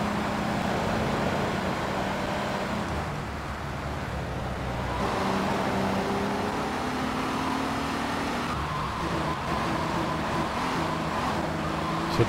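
A car driven through the streets in GTA III, its engine a steady loud drone with shifting pitch as it accelerates, continuous and close without any talk.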